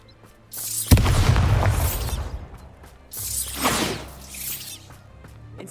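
Bombarda spell explosions in the Hogwarts Legacy video game: two loud, close booming blasts with shattering debris, the first long and heavy, the second about two seconds later and slightly weaker.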